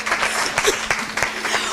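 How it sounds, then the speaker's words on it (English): A roomful of people claps for Dr. Reddy at a municipal gathering, a brief burst of fairly loud, uneven applause with a few sharper individual claps standing out. "Round of applause for Dr."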